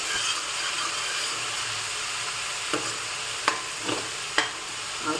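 Onions frying in oil with tomato puree added give a steady, close sizzle, broken by a few sharp spoon scrapes and clicks against the pan toward the end.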